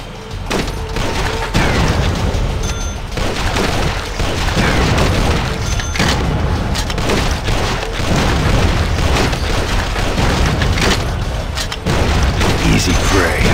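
Heavy gunfire and booming explosions from the Dead Trigger 2 shooter game, dense and continuous at high loudness throughout, with rapid bursts layered over deep blasts.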